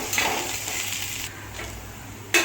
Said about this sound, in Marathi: आलं, लसूण आणि मिरची बारीक केलेली ती आपल्याला पॅनमध्ये टाकायची आहे। थोडंसं त्याला फ्राय होऊ द्या।